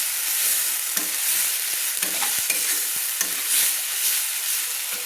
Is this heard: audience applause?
no